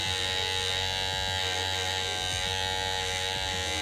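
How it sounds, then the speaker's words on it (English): A small electric hair trimmer used in a barbershop hums with a steady, close, high-pitched buzz that runs unbroken from start to finish. "These are my favourite mini trimmer."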